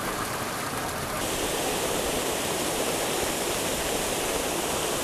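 Treated wastewater effluent pours steadily over a weir at a treatment plant, a dense, continuous rushing wash that stays even and fairly close for the whole stretch, with no voices.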